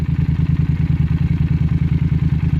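Yamaha TDM 900 motorcycle with dry-sump engine and Akrapovic exhaust idling close by, a loud, deep, evenly pulsing thump repeating rapidly without any voices.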